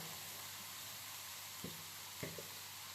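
Paneer pieces frying in a pan in an Indian home kitchen, giving a soft, steady sizzle with a few faint crackles and pops near the end, heard alone without talk.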